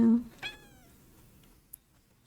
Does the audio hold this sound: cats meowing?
yes